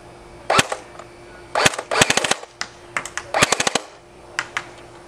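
A Classic Army P90 Sportline airsoft gun fires several rapid bursts of sharp clicking shots, close and crisp, with short pauses between bursts and a few single shots near the end.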